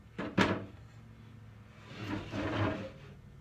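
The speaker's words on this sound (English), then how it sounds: "I'm gonna pop the drawers back in." A wooden drawer is pushed back into a freshly painted Bombay chest: two quick knocks, then a soft, drawn-out sliding rumble, quiet and close, with no talking.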